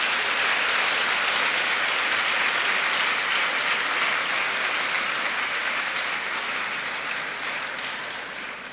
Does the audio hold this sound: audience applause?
yes